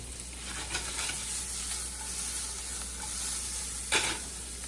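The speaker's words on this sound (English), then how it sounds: "portioning out the Salisbury steak and searing the outside" Salisbury steak patties of about a quarter pound sear in a hot pan in a steady, loud, even sizzle, with a brief scrape of stirring near the end and no talking.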